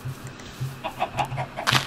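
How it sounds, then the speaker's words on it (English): Minecraft chickens clucking in a game, a series of short low clucks repeating in a quick irregular rhythm, fairly close, with no talking over them. "Chickens."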